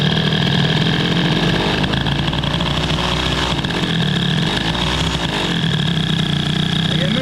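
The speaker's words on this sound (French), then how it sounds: "quand je vais rajouter de l'avance, le moteur va prendre des tours. Le régime va augmenter" A Motobécane 103 moped with a Stage6 MK2 air-cooled engine revs up steadily as ignition advance is increased, a loud, continuous buzzing engine note with rising pitch close by, under faint talk.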